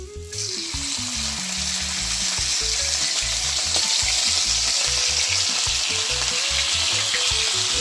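Jamaican salmon slices fry in a hot pan with a dense, even sizzle that stays loud and close throughout. A low rhythmic musical beat plays underneath, and nobody speaks.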